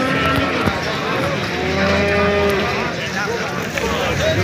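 Cattle moo loudly and close at a livestock market in Mastchoh, with long drawn-out lowing calls overlapping a steady noisy crowd murmur.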